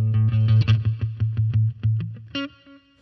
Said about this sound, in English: You got to get a lot of palm muting. She has some echo on it,